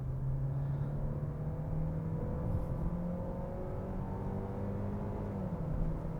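A 2020 Hyundai Sonata Hybrid sedan's engine revs in third gear in sport mode, a steady drone rising in pitch toward redline, heard from inside the car with continuous road rumble underneath.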